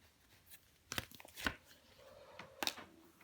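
Tarot cards are handled and turned over on a table: a few quiet, sharp papery flicks and slaps, spaced apart, close by with no talking.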